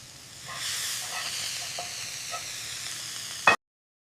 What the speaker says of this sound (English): I cook the other side.